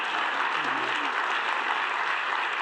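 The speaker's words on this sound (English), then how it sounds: "I don't know if I should celebrate that applause." Audience applause fills a hall at a National Geographic storytellers summit, a dense, steady wash of clapping from a large crowd, loud and continuous throughout.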